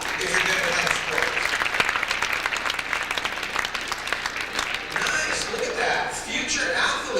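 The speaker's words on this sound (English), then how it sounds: "Go ahead and clap if you're good at playing sports" Audience of a New Jersey State Elks peer leadership gathering clapping in response to a prompt; a dense, sustained round of applause from a room full of people, steady and fairly close, with some voices mixed in.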